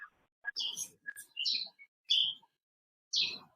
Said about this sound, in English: I hear birds.